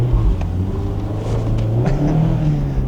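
A light Mazda MX-5 sports car drives along with a steady low engine hum and road rumble, rising slightly as it accelerates, close and continuous with no talking.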